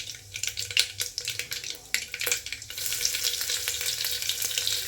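Mustard seeds and crushed ginger and garlic fry in hot oil for pulao, a crackling sizzle with sharp popping spatters that settles into a denser steady hiss, close and alone without talk.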